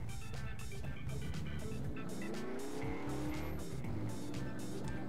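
Tiny car driving in the Turbo Dismount video game, a continuous loud engine drone with rising and falling pitch sweeps and tire squeal, dense and close throughout.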